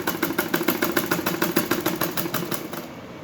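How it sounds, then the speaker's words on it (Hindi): Sewing machine stitching a folded strip of suit fabric, a fast steady run of mechanical clatter at about seven stitches per second, close and clear, slowing and stopping near the end with no talking. "तो देखो ये मैंने इस तरह से सिलाई लगा लिया"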